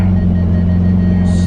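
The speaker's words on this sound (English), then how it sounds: "So this is the basic sound from the 488." Ferrari 488 GTB with an Fi Exhaust system idling in normal mode: a loud, steady low engine drone held evenly throughout, with no revving.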